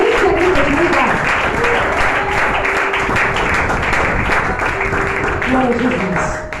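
Church congregation applauding loudly in unison, a thick, continuous roar of clapping mixed with cheering voices and some sustained sung or shouted tones, filling the room at close range from start to finish.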